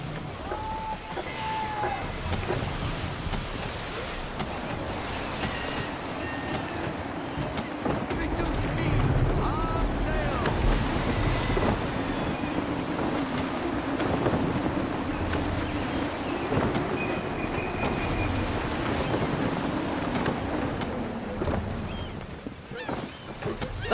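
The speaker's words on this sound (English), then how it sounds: "Wind looks to be shifting. Stay alert, Connor. Gusty winds can be difficult to manage." Gusty wind and lapping waves around a sailing ship in Assassin's Creed III, a steady broad rush that runs the whole time, with a voice speaking over it.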